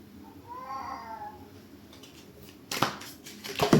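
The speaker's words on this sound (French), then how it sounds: "J'ai mon chat qui est pas content à côté en plus." An unhappy cat lets out a drawn, wavering meow, fairly close, followed by sharp clattering knocks and rustling noises nearby.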